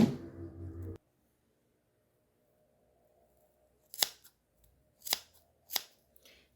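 Scissors trim yarn while a knitted beanie and its pom-pom are being made: one short burst of cutting, a quiet pause, then three crisp separate snips close by.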